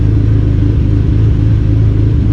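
A turbocharged Dodge SRT-4 with a big turbo and stock timing holds a steady, loud, close rev on a dyno, a dense rumbling drone throughout with no voices.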